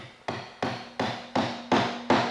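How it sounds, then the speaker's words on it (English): Six sharp hammer blows, evenly spaced, drive Fastcap blind nails into a wooden chair part held on a jig. The strikes are close and loud, with no talk. "I'm going to be using a couple of Fastcap's blind nails to hold the part and keep it on the jig"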